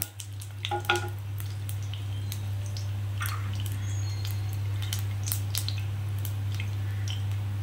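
Whole spices tempering in hot oil for a chicken do pyaza, a soft continuous sizzle with a few crackles and pops near the start, over a steady low stove hum, no voices.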